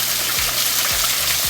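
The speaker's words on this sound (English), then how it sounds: "There's some water running down." Water runs and trickles down rock at Blairskaith Linn, a steady broadband wash of flowing water at close range with no voices over it.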